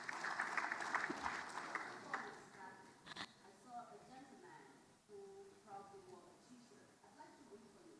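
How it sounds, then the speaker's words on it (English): Audience applause at an agricultural investment forum, fairly loud in the opening seconds and then thinning out, with voices talking over the tail. "A big round of applause."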